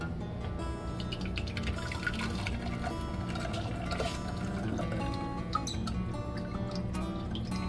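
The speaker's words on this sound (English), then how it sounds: "pour it in a saucepan here." Blended bourbon and cherry hot sauce pours into a saucepan, a thick, steady glugging and trickling close up with light clinks, continuing without pause.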